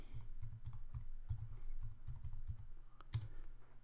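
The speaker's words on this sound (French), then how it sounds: "Si je clique quatre fois sur tabulation," A computer keyboard's tab key is pressed repeatedly in a steady series of close, distinct clicks, about a dozen presses with short even gaps, with no voice over them.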